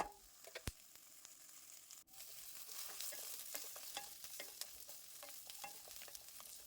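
Coriander seeds and roasted gram fry quietly in hot oil with a soft, steady sizzle, broken by occasional clicks and scrapes of a stirring spoon against the pan.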